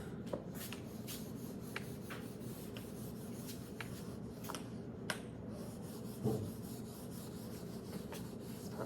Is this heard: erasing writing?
yes